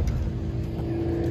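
A Chevrolet Camaro race car drives by at the Optima Ultimate Street Car Invitational at Las Vegas Motor Speedway, its engine a loud, steady droning roar throughout.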